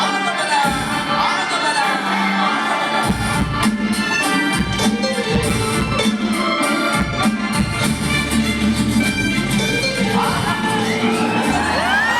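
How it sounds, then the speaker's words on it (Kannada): Packed cinema audience at a movie screening cheering, whooping and shouting loudly in continuous overlapping bursts, with whistles and yells rising over a dense crowd roar. "ನೀವೇ ನೋಡಿ ಎಷ್ಟು ಕ್ರೌಡ್ ಇದೆ ಅಂತ"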